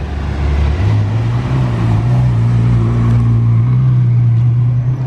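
A Ferrari 812 supercar drives in a parade through Monaco, its engine note rising and then holding a loud, steady drone close by, with no talk over it.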